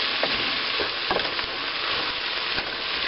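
Onion soup stirred in a pot on the stove, with a continuous sizzle and soft scraping strokes, close and even, and no voices.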